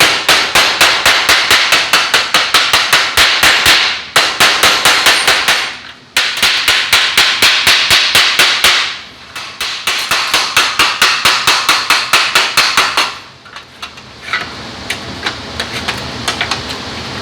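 Rapid metallic hammer blows on a sheet metal panel over a dolly, from a 1969 VW Bus, in long steady bursts, loud and close, with brief pauses between runs and scattered lighter taps near the end.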